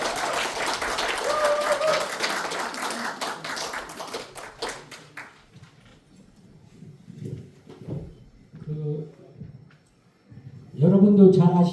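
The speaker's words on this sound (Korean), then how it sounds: "박수 부탁드립니다." A crowd applauds at a Democratic Party women's committee political event, the clapping loud at first and then thinning out into scattered claps, followed by a speaker's voice and then another burst of sound at the end.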